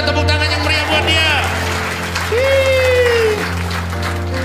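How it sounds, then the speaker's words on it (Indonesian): A church congregation applauds during a sermon, the clapping steady and mixed with cheering voices and a rising, sustained vocal tone over a low hum. "tepuk tangan yang meriah buat dia"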